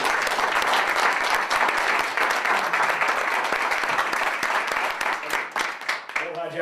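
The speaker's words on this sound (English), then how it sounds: "How about a round of applause for our new police chief?" A room of attendees at a township business association meeting gives a hearty round of applause for a new police chief, dense clapping throughout that starts to thin and taper near the end.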